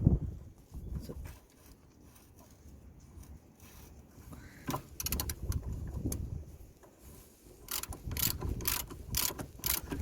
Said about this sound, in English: So we are using a 18mm socket to tighten the nut